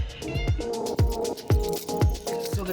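A cat meows repeatedly, several drawn-out cries in a steady rhythm, close and fairly loud, with no talking.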